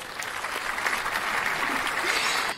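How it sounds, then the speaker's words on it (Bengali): A crowd claps steadily for about two and a half seconds, a dense, even patter of many hands at close range that holds level throughout and then cuts off abruptly at the end, with no voices over it. "সবাই হাততালি দাও"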